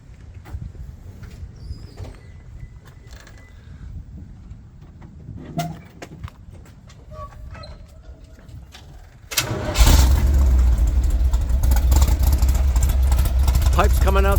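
A rebuilt 350 V8 in a Toyota FJ40 restomod with side pipes, cranking and firing up after quiet rustling, then a loud, close, steady rumbling idle that holds to the end.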